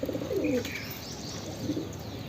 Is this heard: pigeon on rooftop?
yes